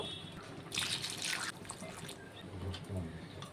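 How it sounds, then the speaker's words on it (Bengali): Water poured into a simmering mutton curry, a short splashing pour rising and fading near the start, followed by quieter trickles and low stirring sounds at close range. "আমি সামান্য আরও একটু নর্মাল জল দেব"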